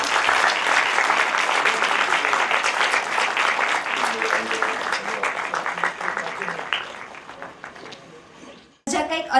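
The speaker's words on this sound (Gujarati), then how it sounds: "જોરદાર તાળીઓ ચાલુ જ રહેવી જોઈએ" Audience at a book talk applauding to honour poet Vinod Joshi, dense sustained applause that stays loud and gradually thins, with voices mixed in, a brief gap near the end, then a burst of sound returns.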